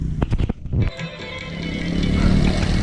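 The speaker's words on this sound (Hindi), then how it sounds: "मोटरसाइकिल ऊपर जाने में थोड़ा सा दिक्कत हो रही है" Motorcycle labouring uphill on a rain-soaked, muddy rural road, engine droning steadily and growing slightly louder after a few sharp clattering knocks at the start, with no talk over it.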